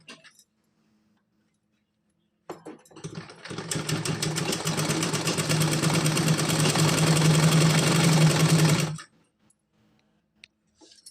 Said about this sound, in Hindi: इस तरह से इसको सीधी सिलाई लगानी है